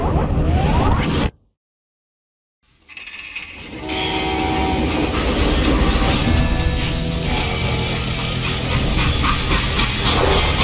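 Freight train running in the Call of Juarez: Gunslinger video game, a steady rumbling clatter of rail wagons, briefly cut to silence before resuming loud and close with mechanical rattling and a horn-like tone.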